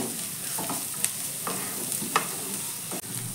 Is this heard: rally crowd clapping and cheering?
no